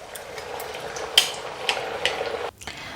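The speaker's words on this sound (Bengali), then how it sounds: "এইভাবে আমি বাকি কচুরিগুলোকেও ভেজে নেব" Pea-filled kachori frying in hot oil in a pan, a steady close sizzle with a few light clinks of a utensil against the pan, ending in a sudden quiet.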